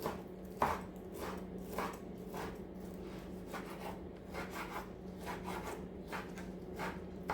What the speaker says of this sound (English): 6 rashers of smoked streaky bacon. So we're just going to chop those up